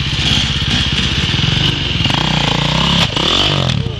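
A motorcycle engine gives a single big throttle blip during riding practice, a loud close roar that rises sharply in pitch and then drops back over a steady running engine.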